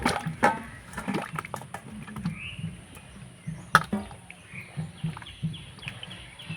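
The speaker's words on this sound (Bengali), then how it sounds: "এবার আমের টুকরোগুলো দিয়ে দিব চুন জলের মধ্যে।" Raw mango pieces drop into slaked lime water for a mango preserve, making soft splashes, plops and light clatters in a quiet kitchen, spaced irregularly across several seconds.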